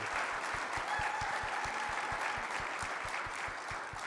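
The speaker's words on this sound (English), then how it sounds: "could I get a round of applause for George and Bill?" A conference audience applauds two presenters, sustained clapping of a crowd that carries evenly throughout, with a low regular thumping pulse running underneath it.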